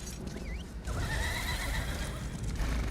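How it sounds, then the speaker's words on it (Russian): A horse in The Elder Scrolls Online neighs loudly while being mounted, a rising whinny over hoof clip-clops and dense game ambience. "Это я типа на лошадь так хотел сесть."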